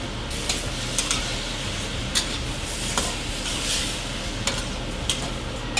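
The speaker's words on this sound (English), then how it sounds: "Now we're going to add the tomatoes." Tomatoes hit a pan at high heat for a lomo saltado stir-fry, giving a steady broadband sizzle with periodic scraping and stirring clicks, close and continuous without talk.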